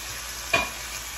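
Mixed winter vegetables and fried mung dal cook in a pan on medium heat, giving a quiet, steady sizzle broken by one brief stirring scrape near the middle.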